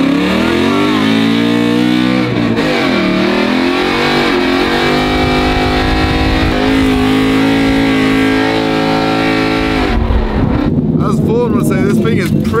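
A drift car engine revving hard through a spin at speed, loud and continuous with rising and falling pitch under heavy wind buffeting, and a voice talking over it.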